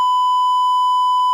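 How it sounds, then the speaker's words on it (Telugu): A censor beep masking a swear word in political speech, a single steady pure electronic tone held for over a second, loud and unbroken. "అక్కడ బీప్ వేశారు"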